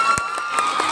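Audience clapping at a quiz contest in Saidpur, a short burst of crowd applause and cheering that holds steady through the whole moment, with scattered sharp claps standing out over a continuous bed of crowd noise.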